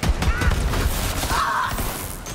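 Rapid gunfire in the video game Borderlands 3, a dense, loud crackle of shots running continuously across the short stretch with game effects layered on top.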